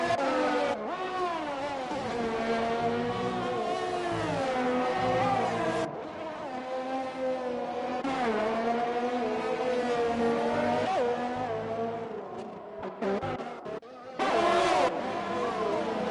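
Vintage Formula One racing cars, a Ferrari among them, scream past in the Grand Prix Legends game at Hungary, high-pitched engines rising and falling through gear changes, loud and continuous with brief dips between passes.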